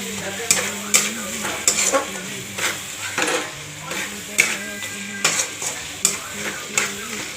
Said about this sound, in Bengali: লবণটা দেওয়ার পরে একটু নাড়তে হবে।